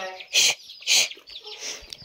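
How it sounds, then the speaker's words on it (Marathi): A hen with her chicks clucks nearby in two loud bursts, followed by softer clucks and faint chirps, at an old tiled-roof village house in Konkan. "हे बघा, कोंबडी आली इकडे"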